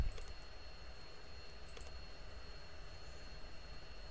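Jet engine of a Brazilian Air Force fighter in the Falcon BMS 4.33 flight simulator spooling for takeoff, a steady low roar with a faint high whine heard from inside the cockpit, no talk.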